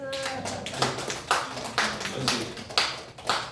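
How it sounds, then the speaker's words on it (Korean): A small group claps in a loose rhythm of scattered, uneven hand claps, close by, with a voice briefly audible underneath. "두 분 박수해야 돼. 박수 한번 해."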